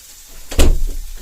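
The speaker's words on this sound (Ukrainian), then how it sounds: "треба закрити двері." An interior door in a home is pushed shut with a single solid thud, close and fairly loud, and a faint room rumble lingers after it.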